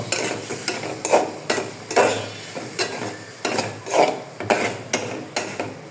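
Dried fish coated in chili powder and turmeric sautéed in a pan: a spatula scrapes and stirs in steady repeated strokes roughly every half second over a soft sizzle, close and fairly loud.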